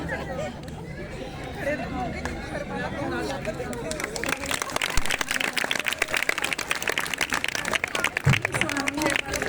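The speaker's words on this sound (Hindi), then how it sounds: "तालियां जरूर बजाना वरमाला के समय" At a staged Maina Sundari wedding scene, voices and chatter come first, then an audience breaks into lively, sustained clapping for the garland exchange. The clapping grows louder and continues to the end over crowd murmur.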